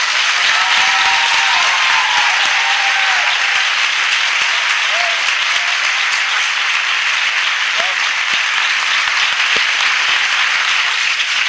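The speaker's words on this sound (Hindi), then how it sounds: "क्या हम अपने प्रभु के लिए एक अच्छी ताली बजा सकते हैं?" A church congregation applauds with loud, continuous clapping that fills the space for over ten seconds. The applause stays steady and dense throughout, with faint voices beneath it.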